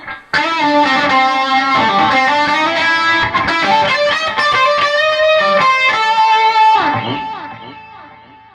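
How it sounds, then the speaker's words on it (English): Loud distorted high-gain electric guitar through a Neural DSP Quad Cortex plays sustained chords and notes, shimmering with chorus, bouncing ping-pong delay repeats and a touch of reverb tailing off at the end. "added some chorus, some ping pong delay, and up the reverb just a little bit"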